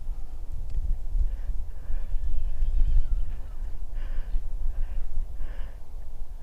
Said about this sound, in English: Don't know if you can hear that horse.